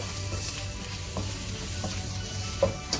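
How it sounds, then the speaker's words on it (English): Oil sizzles steadily in biryani masala with curry leaves, a soft continuous frying hiss with a few faint clicks and pops near the end, no talking. "1 tablespoon of oil I am adding to this masala."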